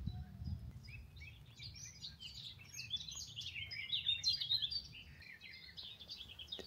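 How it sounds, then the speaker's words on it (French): Small birds chirp in quick, high twittering phrases, faint and somewhat distant, with a low rumbling background underneath. "Vous entendez les petits oiseaux?"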